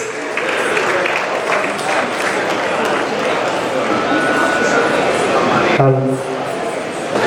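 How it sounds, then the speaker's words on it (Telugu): An audience applauds at a builders' property and materials show in Ongole, honouring children of a Kuchipudi dance troupe. The clapping is dense and steady throughout, with a voice talking over it. "ఒక్కసారి అందరూ గట్టిగా క్లాప్ చేద్దాం"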